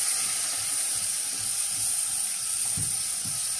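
Onion, pepper and carrot frying together in a pan, a steady broad sizzle and hiss running throughout with a few soft low stirring knocks, close and alone with no talking.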